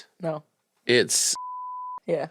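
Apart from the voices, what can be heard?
censor bleep over spoken phone password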